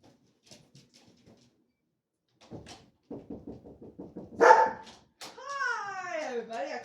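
A big dog gives a quick run of sharp, close barks, then a louder burst and a drawn-out, wavering whine-like cry, with quiet gaps between them in an otherwise still room.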